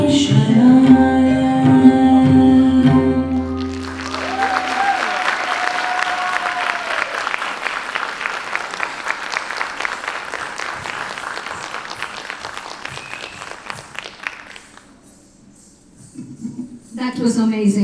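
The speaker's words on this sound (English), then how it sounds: "One more round of applause." A large audience applauds after a dance performance at a dance academy's student day, dense clapping rising after fading music and tapering off near the end before music resumes.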